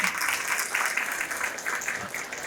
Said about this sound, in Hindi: इन सारे पापास के लिए जोरदार तालियां